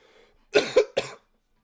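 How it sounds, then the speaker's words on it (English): A person coughs three times in quick succession, harsh close bursts that come on suddenly and stop, with faint murmur before. "I just have this cough."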